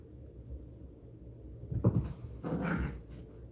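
A dog growls low and whimpers nearby in a quiet room, a couple of short rough bursts with a bump like a cupboard door, and no one speaking.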